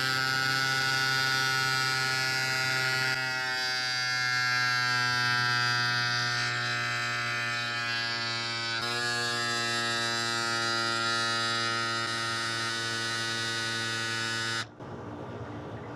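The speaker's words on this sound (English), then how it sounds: "Press onto the valve and press the top button again to begin the inflation process." A Cycplus AS2 Pro electric pump inflates a bike tire with a steady, loud motor hum and buzz that holds for about fifteen seconds, its pitch shifting slightly partway through, then cuts off abruptly near the end.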